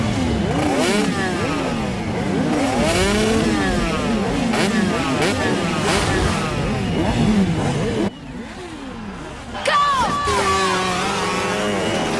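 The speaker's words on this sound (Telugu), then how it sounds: "వీడెవడ్రా బైక్ ఎత్తుతున్నాడు?" A motorcycle engine revs in repeated rising and falling bursts, close and loud, as a rider lifts the bike, with voices and crowd noise mixed in and a short quieter gap before the revving resumes.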